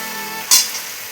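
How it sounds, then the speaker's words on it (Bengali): Katla fish goes into hot oil and browned spice paste: a sudden sharp burst of sizzling over a steady frying hiss, close and fairly loud, then settling back to a constant crackle. "ভালো করে কষা হয়ে গেছে এবার মাছ দিয়ে দেবো"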